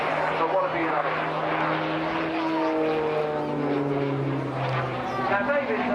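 A Tucano turboprop aircraft drones overhead during an airshow display, its engine pitch sliding and shifting as it passes, with a voice talking over it.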